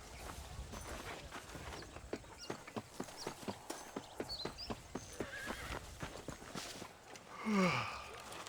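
Horse hooves clip-clop at a steady gallop-like rhythm while riding in the video game Red Dead Redemption on PS5, close and continuous, with a brief snort or whinny near the end.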